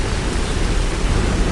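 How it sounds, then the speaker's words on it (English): Steady rain sound effect for a gloomy turn in the weather, a continuous broadband hiss with a low rumble underneath, even and unbroken throughout, no voices. "the weather started becoming gloomy and soon began to rain"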